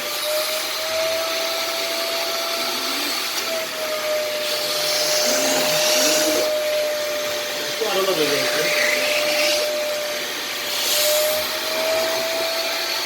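A Kiwi KCC 4325 carpet washing machine sucks up water with a steady, loud vacuum whine held throughout, rising in pitch and gurgling as the nozzle pulls water.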